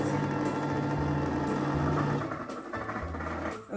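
Kitchen blender whirring as it blends eggs with seasoning, a steady close motor hum with a shifting pitch that drops and wavers toward the end as it winds down.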